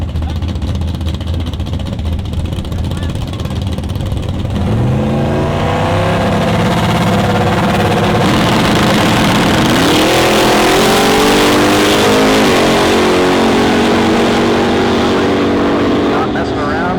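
Drag race launch at Toronto Motorsports Park, a nitrous-assisted Chevy Nova heads-up against a turbocharged Mustang: loud engines roar and rev with rising pitch sweeps as the cars accelerate, sustained and close, with commentary voices over the top.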